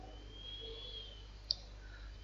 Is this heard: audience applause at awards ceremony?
no